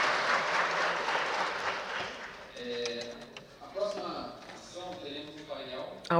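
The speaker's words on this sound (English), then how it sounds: "A big round of applause to Rodrigo." Conference audience at an internet forum applauding a speaker, a broad wash of clapping that fades after about two seconds, giving way to a speaking voice over a quieter room.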